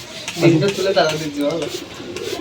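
A pigeon in a loft coos in low, throaty phrases close by, its rolling calls overlapping with nearby human speech.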